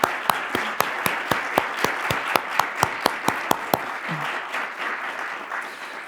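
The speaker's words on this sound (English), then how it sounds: "Round of applause, please." An audience at a concert honoring a Marine Band scholarship gives steady applause, with sharp, evenly spaced claps standing out over a continuous bed of many hands clapping, fading slightly toward the end.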